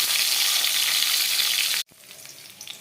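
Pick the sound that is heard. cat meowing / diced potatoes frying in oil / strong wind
diced potatoes frying in oil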